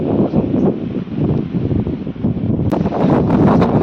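Strong wind blows outdoors near a fishing spot, producing a loud, continuous buffeting rumble and rustle with gusts rising and falling throughout.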